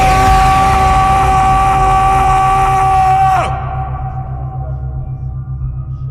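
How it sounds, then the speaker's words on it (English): A group lets out a long, loud scream together during a guided breathing session, a sustained roar of many voices with a steady pitched tone running under it that cuts off sharply partway through, leaving a quieter hum. "we're gonna let out a big scream and we're gonna let it go"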